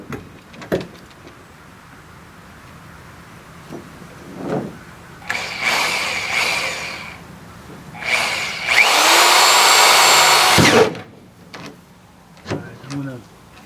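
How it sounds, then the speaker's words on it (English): A power drill bores a hole in the bed of a 2001 Ford F350 truck, with several short bursts and one longer sustained run close by, separated by pauses and brief handling clatter. "Alright, so it's time to drill a hole."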